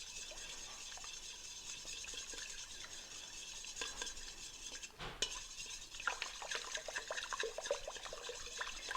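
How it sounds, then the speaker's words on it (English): Salt stirred into water for pizza dough: a continuous swishing with light scraping and occasional clinks of a utensil against the bowl, close and steady, with no talking. "I'm just going to stir my salt in, just get it to dissolve, distribute it into my water."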